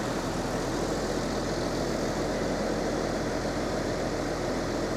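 A tractor engine runs steadily at close range, a dense, continuous mechanical roar with no clear start-up moment and no talking.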